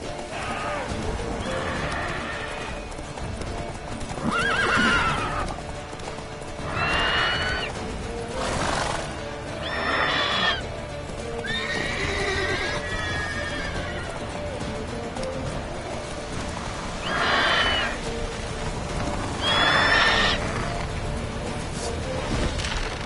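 A horse in The Witcher 3 gallops and neighs repeatedly, with recurring whinnies over a continuous drum of hoofbeats and game ambience.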